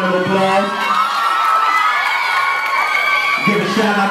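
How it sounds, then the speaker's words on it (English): A gym full of middle school students cheers, shouts and whoops loudly and continuously, a dense crowd roar filling the space with voices layered over one another. "Y'all give them a round of applause."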